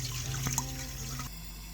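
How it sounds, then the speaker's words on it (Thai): Clean water, about 700 ml, poured into a pot for Thai fish-innards curry (kaeng tai pla), giving a steady close splashing rush for over a second before it stops and leaves a quiet background. "เราก็มาเติมน้ำ เปล่า หรือน้ำสะอาด 700มิลลิลิตร"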